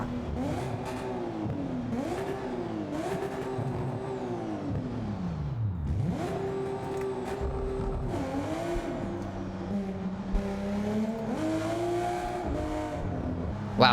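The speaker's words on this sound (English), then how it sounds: "Very good engine sound as well" Racing-game car engine roaring through repeated up-and-down revs, dipping sharply at gear changes, with brief tire squeal; loud, continuous and alone.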